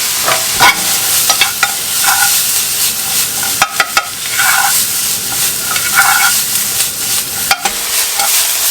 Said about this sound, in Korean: 양파가 어느 정도 볶아졌으면 양송이 버섯 들어가고요. 준비해놓은 새우도 바로 들어갑니다.